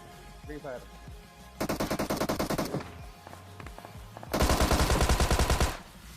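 Tommy gun fire in a battle royale video game: two loud sustained automatic bursts, one around the middle and a longer heavier one near the end, with faint game sounds between.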